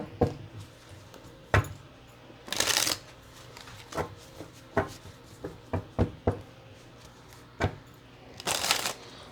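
A deck of tarot cards is shuffled close up in quick riffling bursts, with scattered taps and knocks of cards squared against a surface between them.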